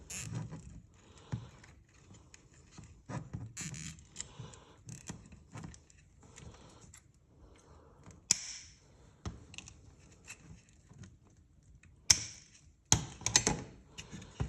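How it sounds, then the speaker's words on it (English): A black plastic zip tie is ratcheted tight around bundled wires during a foam blaster build, giving a long series of small, close clicking and zipping ticks with a few sharper snaps near the end. "And we zip tie that."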